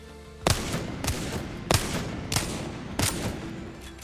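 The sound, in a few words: Wingman revolver shots in the Apex Legends firing range, video game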